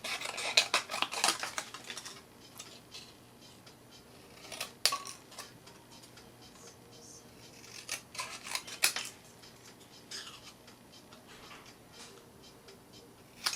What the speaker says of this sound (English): I'm just going to cut this piece out.